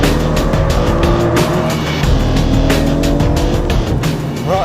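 Aston Martin V12 Vantage launching hard with heavy wheel spin: a loud, close engine roar climbing through the revs with tire squeal layered over it, rising steadily, then a brief pitch drop at a gear change near the end.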